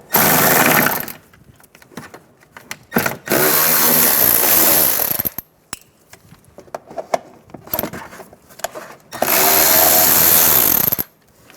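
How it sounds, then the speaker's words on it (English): Short bursts of a power driver or impact-style socket tool remove 10mm bolts from the wheel well of a 2014-2019 Toyota Highlander. Three loud whirring runs alternate with quieter clicks and metallic rattling between them. "Keep going around, removing all the 10mm bolts in the wheel well."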